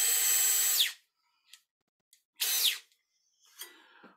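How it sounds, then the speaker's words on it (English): An electric drill motor spins up in two short, loud bursts of high whine, each one winding down quickly. Faint clicks and handling noises fall in the gaps between the bursts. "Well, the drill motor is much faster."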